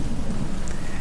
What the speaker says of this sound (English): this area I think just permanently has rain and lightning